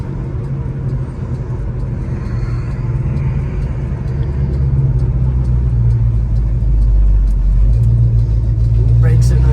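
The 396 V8 engine of a 1969 Chevrolet Chevelle SS rumbles steadily as the car drives along, growing slightly louder toward the end, with people talking over it.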